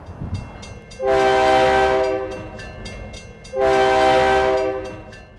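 A train at a street-level crossing on a city avenue sounds its horn in two long, loud blasts, each lasting over a second, with rumbling rail noise underneath.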